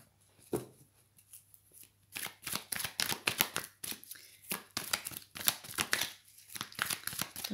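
Oracle cards shuffled and drawn by hand on a tabletop, giving close, crisp riffling bursts and soft slaps in an irregular rhythm with short pauses, alone without talk.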